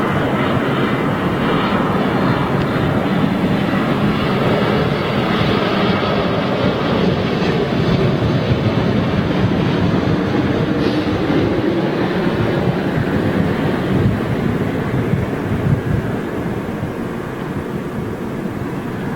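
A TUI Boeing Dreamliner airliner comes in to land at Manchester Airport, its engines a steady, loud, broad roar that holds throughout with no voices.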